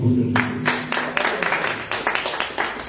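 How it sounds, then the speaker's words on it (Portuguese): A church congregation claps in brisk, even rhythm for about three seconds, the claps close and crisp and lightly blurred into a short burst of applause. "Aplausos no nome do Senhor Jesus."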